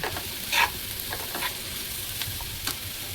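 Onion fries in a pan until lightly golden-brown while being stirred, a continuous close sizzle punctuated by a few scraping strokes of the spoon.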